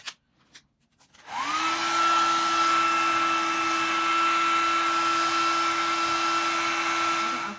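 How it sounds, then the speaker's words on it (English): A blow dryer on its cool setting switches on after a few faint clicks, then holds a steady whirring hum with a constant high whine for several seconds, close and alone. "I'm gonna get my blow dryer, put it on a cool setting"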